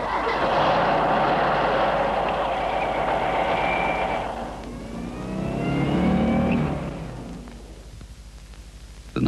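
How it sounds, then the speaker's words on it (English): Engine of a 1974 Volkswagen Beetle found buried under snow and ice cranks and catches after the ignition key is turned, a loud close rumble that revs, dips and swells again before cutting off. "when the crew supervisor turned the ignition key,"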